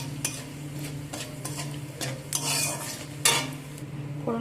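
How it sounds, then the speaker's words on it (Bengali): Dried chilli, whole cumin and asafoetida fry in hot oil with a steady sizzle, broken by repeated spoon scrapes and clinks against the pan, close and fairly loud, with no talk. "ফোড়নে দিচ্ছি একটা শুকনো লঙ্কা, 1/2 চামচ গোটা জিরে, আর অল্প একটু হিং দিয়ে ফোড়নটাকে ভালো করে ভেজে নেব"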